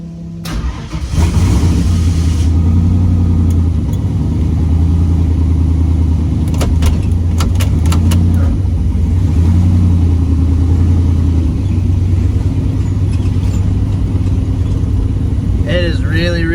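A Ford Fairmont car's engine runs loud and close with a steady low drone as it drives, rising slightly at times, while people talk over it.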